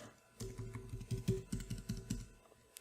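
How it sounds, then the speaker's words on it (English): Rapid keystrokes on a computer keyboard while entering a name and email address into a web form, a close, irregular patter of clicks with brief pauses between bursts. "So I'm going to type in Adam Smith"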